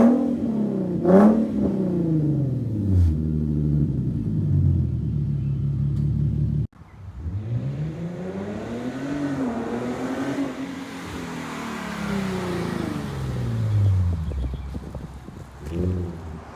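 Infiniti Q50 fitted with an SCS catback exhaust revving repeatedly, deep rumbling swells rising and falling, loud and close, with a cut partway into another run of revs.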